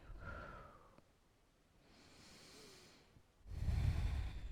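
Slow, soft breathing during a beginner yoga stretch aimed at digestion, with a quiet breath at the start, a gentle airy exhale in the middle and a louder, rougher breath toward the end, with no talk.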